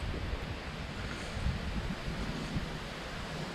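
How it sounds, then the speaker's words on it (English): Steady breeze blowing outdoors at a campsite on a mild day, a continuous broadband rush of wind buffeting the microphone with no speech. "We could feel the breeze while we were trailering, so I knew it was going to be breezy."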